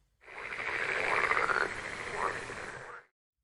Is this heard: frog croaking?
yes